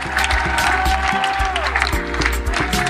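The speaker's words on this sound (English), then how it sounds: "Please, let's keep clapping for them." An audience at a youth convention panel keeps clapping for the panelists, a steady wash of claps under sustained music with thumping beats.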